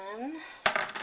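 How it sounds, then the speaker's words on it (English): A spoon knocks against a pot while a milk and flour mixture is stirred. A short metallic clink and scrape come after a moment of quiet, then several lighter taps follow close to the mic. "I'll give it a stir"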